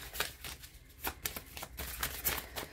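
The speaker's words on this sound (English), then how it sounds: "Let me shuffle these cards." Tarot cards are shuffled by hand in a quick series of soft riffling bursts, close and quiet, with no talking.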